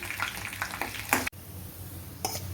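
Steady sizzling and crackling of chopped ginger and cashews frying in hot oil for tempering pongal, with a brief stir or clatter midway before the sizzle continues.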